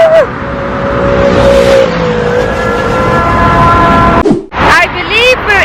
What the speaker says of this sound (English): lots of traffic, getting out of the city